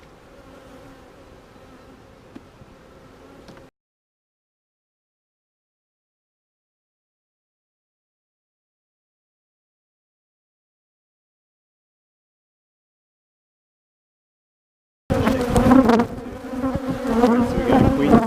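Honeybees buzz in a dense swarm during an early March routine hive inspection, a steady droning hum heard briefly at first, then a long silence, then returning loud and close.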